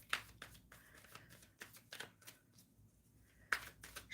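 Tarot cards shuffled by hand, with a series of crisp riffling bursts and soft card slaps spaced irregularly, close and fairly quiet, with no talking.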